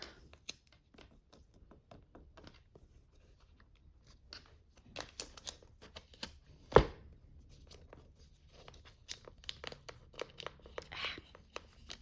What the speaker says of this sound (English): take my little piece of tape. Stick it under the cover, flip it over